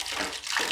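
Water gushes from a portable instant electric water heater being tested after unboxing, a steady broadband rush of flowing, splashing water close by with no voices.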